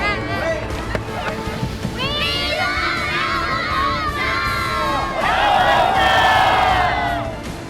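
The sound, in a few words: crowd of schoolchildren cheering at a car rally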